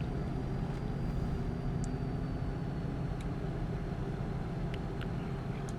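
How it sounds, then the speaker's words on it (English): A truck diesel engine in the American Truck Simulator game drones steadily at close range, a continuous low rumble that holds the same level throughout with no talk over it. "Some of these Cat and Cumming engine sounds, they remind me more of marine diesel engines than of truck engines"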